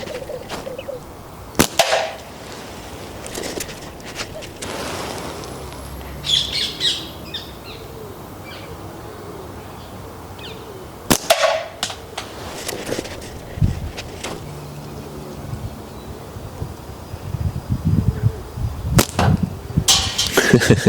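Steel ammo fired from a GZK GAL 2.0 slingshot toward a can target downrange, a few sharp snapping shots spaced several seconds apart with distant impacts, outdoors among bird calls and no talk.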